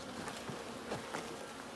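Honey bees buzz around an open hive during a beekeeping inspection, a faint, steady droning hum with brief passing buzzes of individual bees near the microphone.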